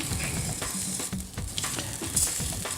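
Risotto rice toasting in a hot pan, a soft continuous sizzle broken by scraping strokes of a spoon as it is stirred, close and fairly quiet.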